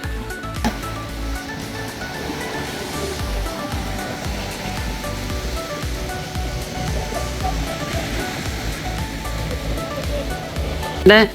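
Sea waves wash steadily onto a UK beach, making a continuous broad roar of surf under people talking, with a brief louder thump near the end.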